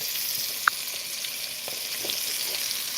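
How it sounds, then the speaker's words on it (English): Beef steak sizzles steadily on a grill, a constant hiss of fat and juices with one brief sharp pop, close and alone with no talking. "take my time, 30 seconds at a time, and cook my steak"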